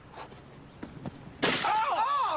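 Glass shatters loudly and abruptly, a bright crash followed by a ringing, tinkling scatter of debris that carries on to the end, after a few soft vocal sounds and light taps.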